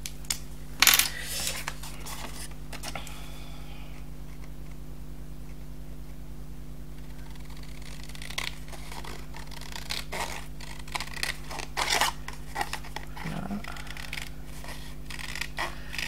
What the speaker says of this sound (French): Moi je vais découper au ciseau.